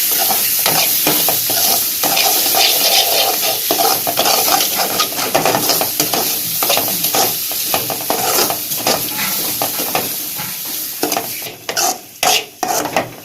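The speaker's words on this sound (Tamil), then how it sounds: "நல்லா காளான் வந்து ஃப்ரை ஆயிடுச்சு." Mushrooms frying with chilli, mustard seeds, curry leaves and turmeric for a village-style Tamil mushroom fry, sizzling loudly and steadily while a spoon stirs and scrapes the pan, with a few sharp clinks near the end.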